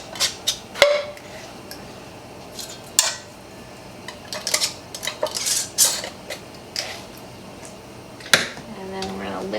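Metal canning bands are screwed onto lids set on jars, giving sharp clinks and scraping metal-on-glass clatters in irregular bursts, close and fairly loud against a quiet kitchen background.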